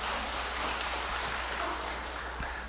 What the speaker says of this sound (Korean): 하나님께 영광 돌리는 박수 한번.